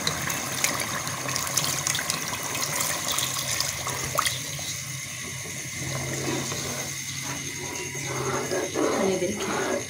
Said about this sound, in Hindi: अब इसमें शोरबे के लिए पानी डालते हैं।